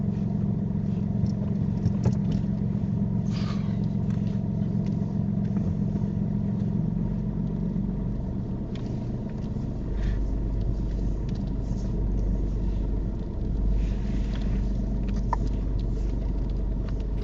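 A learner driver's car reverses out of a parking bay to the left, its engine producing a steady low rumble from inside the cabin that shifts slightly in tone partway through, continuous and moderately loud with no talk.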